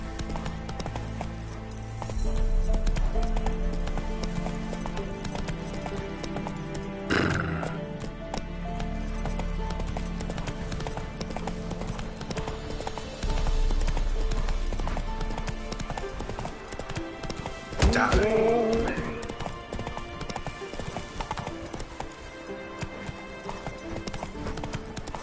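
A horse gallops in The Witcher 3 video game, with rapid clip-clop hoofbeats running steadily throughout and a brief whinny partway through, amid game music and ambience.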